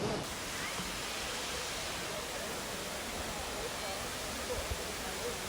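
A waterfall at Mavigöl in Giresun gives a steady, broad roar of rushing water, continuous and unbroken throughout, fairly loud and close.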